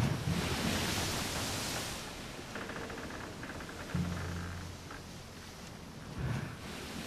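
Rolling water waves in the video game Fable 2, a broad surging wash that swells and ebbs, with faint game tones and a low hum mixed in; no talk.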